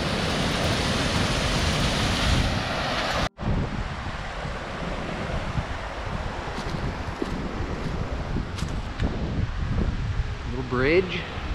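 Strong wind buffets the microphone in the chilly Catskill Mountains, a steady loud roar with a brief dropout partway through, then continuing gusty rumble.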